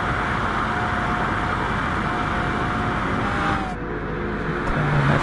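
Race cars flat out on the Mulsanne straight at Le Mans in the GT Sport video game, a steady loud roar of engine and road noise with a sustained whine that dips briefly near the end.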